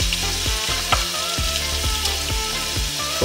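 Frozen, pre-boiled peas sizzle steadily and loudly in a hot pan for an Italian frittata, with a rhythmic scraping of stirring repeating every few moments and no talking.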